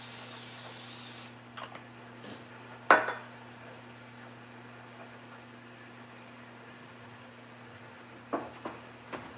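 Pam cooking spray hisses into a pan on a home breakfast stove, a short sharp burst followed by a faint clink, then a couple more quiet rustles and taps against a low steady hum.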